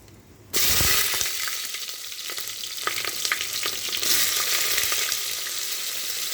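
Mixed vegetables (potol, radish, long beans, brinjal, potato, green chillies) with dried red chillies hit hot oil in a pan, bursting into a loud, steady sizzle that continues throughout with small scraping stirs, no talk.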